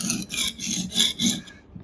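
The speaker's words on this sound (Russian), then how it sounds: "Сейчас ножик переворачиваем опять в исходную. И здесь начинаем точить." Kitchen knife being sharpened on a store-bought whetstone, a series of about five short, rasping strokes in a steady back-and-forth rhythm, close and fairly quiet, with no talk.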